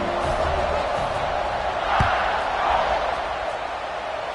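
A football stadium crowd roars as the kickoff approaches, a dense, sustained wall of cheering and noise with a slight swell midway.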